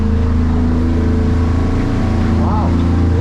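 Outboard motor on a North River HT Coho boat fitted with a Ford F150, throttled up for acceleration, a loud continuous engine roar and water noise, with a voice speaking over it.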